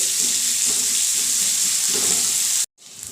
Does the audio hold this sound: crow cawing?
no